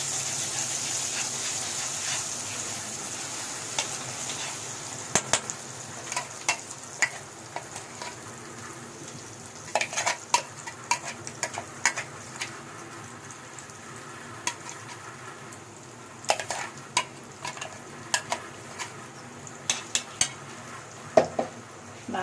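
Tomato chutney frying in oil with asafoetida, stirred in a pan: a low steady sizzle broken by repeated sharp clinks and scrapes of a utensil against the pan, fairly quiet, without voices.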